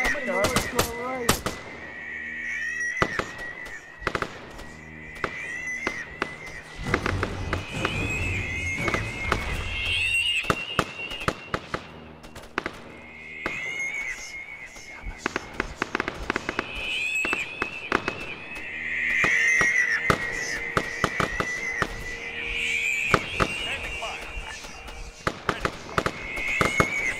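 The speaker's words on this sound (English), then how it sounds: "Volley fire is amazing!" Musket volley fire in a 1590 Roanoke horror game: dense, crackling bursts of gunshots keep coming throughout, over steady background noise and occasional shouting voices.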